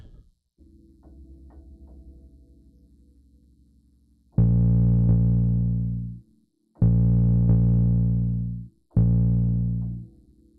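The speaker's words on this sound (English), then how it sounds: "I'm going to add a distortion plugin. I'm going to switch it to saturation" Deep, gritty 808 bass notes with saturation distortion play in three long sustained hits after a quieter droning intro.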